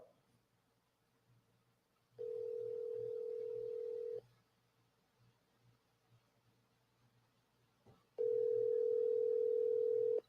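Steady telephone dial tone on a forwarded phone call, sounding in two clear bursts of about two seconds each, separated by quieter background hum.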